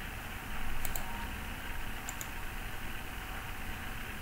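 Two quick pairs of sharp computer mouse clicks stand out against a steady background hiss, close by and fairly crisp, during a right-click in ANSYS software.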